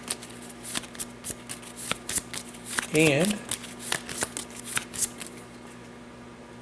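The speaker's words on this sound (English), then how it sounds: "So we give these boys a little shuffle." A deck of supplemental cards for a board game is shuffled by hand, giving a rapid riffling rattle of crisp card flicks, with a brief spoken word in the middle.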